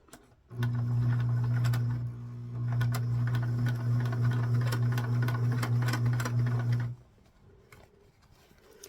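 An all-metal sewing machine drives through thick dress gathers in one sustained, close run of about six seconds with a slight dip partway, its steady motor hum under rapid needle ticking, then stops.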